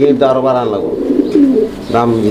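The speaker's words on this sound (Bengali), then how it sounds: "এখানে একটা সিঙ্গেল বোম্বাই কবুতর আছে হোয়াইট কালারের মধ্যে" A single white Bombai pigeon coos close and loud in a few throaty, rolling phrases with a short pause between them, and a voice is heard nearby.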